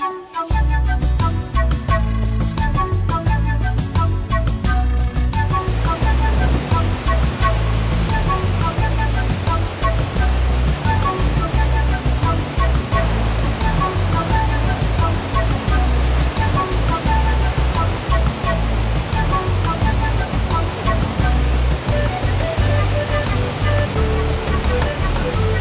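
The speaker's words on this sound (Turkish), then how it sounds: "15 metre yüksekten düşüyor bu şelale. Gürül gürül." A 15-metre waterfall in a Rize valley roars steadily and loudly in a dense, unbroken rush of falling water that fills the whole span.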